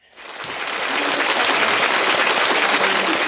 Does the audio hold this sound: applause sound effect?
yes